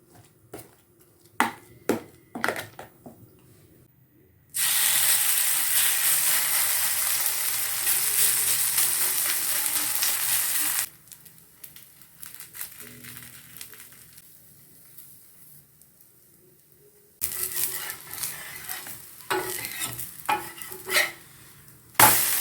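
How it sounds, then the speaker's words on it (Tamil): Aval uthappam batter, made with mashed flattened rice, fries on a hot pan in a loud, steady sizzle lasting several seconds, framed by quieter stirring and utensil clinks before and after. "ஊத்தப்பம் மாதிரி தான் ஊற்றி எடுக்க போகிறோம்"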